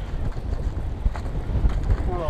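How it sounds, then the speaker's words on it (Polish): Wind buffets a boat out on the water during spring spinning fishing, a steady rough rumble of gusts across the microphone with faint background sounds throughout. "bo troszeczkę ten wiatr daje nam w kość"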